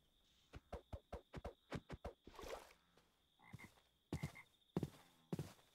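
Repeated frog croaks from Minecraft, a run of about nine evenly spaced close croaks at first, then a noisy rustle and a few further scattered croaks with a steady high tone running underneath.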